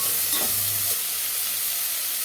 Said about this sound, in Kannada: ಎಲ್ಲನೂ ಒಂದು ಅದ ಬರೋವರೆಗೂ ಚೆನ್ನಾಗಿ ಫ್ರೈ ಮಾಡ್ಕೋಬೇಕು